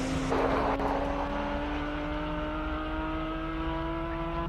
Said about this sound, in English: that Porsche sounds incredible